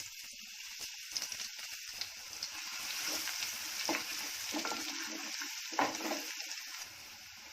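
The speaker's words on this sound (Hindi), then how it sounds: "इसमें डाल रही हूँ अपना कड़ी पत्ता, इसमें डाल रही हूँ थोड़ी सी राई।" Curry leaves and mustard seeds sputter and sizzle in hot oil, a steady close frying hiss with small pops and occasional stirring scrapes, no voices.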